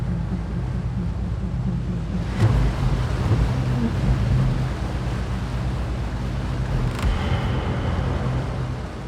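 A RIB boat engine roars steadily as the boat speeds along a coast, with a constant loud drone, water and wind rush and a couple of sharp knocks or bumps along the way.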